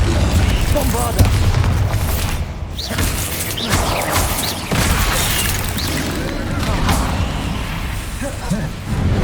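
Repeated Bombarda exploding spell blasts in Hogwarts Legacy, heavy booms with whooshing and shattering debris recurring over several seconds, loud and close amid busy combat noise with a voice speaking.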